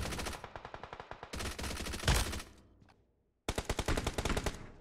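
Bursts of rapid automatic gunfire in a battle royale video game, loud close volleys of sharp shots with a brief lull before another fast burst, no talk.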